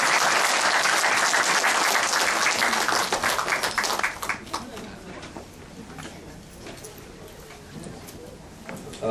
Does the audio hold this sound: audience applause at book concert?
yes